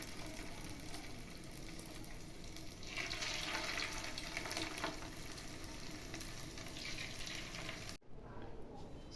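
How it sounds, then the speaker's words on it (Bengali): Garlic chicken pieces sizzle steadily in hot oil, a dense continuous frying hiss that swells as more pieces go in, then cuts off abruptly near the end. "এখানে তেলটা গরম হয়ে গেছে প্রায়, তো এবার আস্তে আস্তে করে ছাড়তে থাকবো একটা একটা করে"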